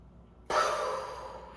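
A single slow, breathy exhale during a yoga session, beginning abruptly and fading gently over about a second, close and soft, alone.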